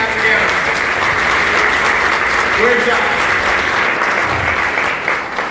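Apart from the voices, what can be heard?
applause from conference audience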